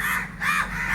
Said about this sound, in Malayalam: എപ്പോഴും ഇവിടെ കാക്കേൻ്റെ സൗണ്ട് മാത്രമേ ഉള്ളൂ